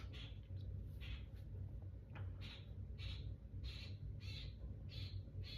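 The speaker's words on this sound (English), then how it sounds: "it sounds like a crow." A crow-like bird calls over and over, about six harsh, evenly spaced cries roughly a second apart, moderately distant above a steady low rumbling background.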